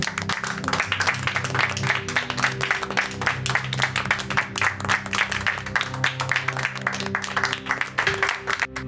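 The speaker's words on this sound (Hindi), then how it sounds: "आइए हम सब मिलकर मिस ब्रुक्स के लिए जोरदार तालियां बजाते हैं" A room full of people claps for a teacher, Miss Brooks, in a lively steady round of applause with a low hum of background noise underneath.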